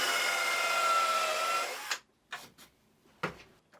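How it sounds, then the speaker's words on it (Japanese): A power driver running screws to fasten stretchers to the legs of a sturdy DIY workbench, a steady loud whir for about two seconds, then silence broken by a few short clunks and knocks. "問題なければネジでストレッチャーを足に留めていきます。"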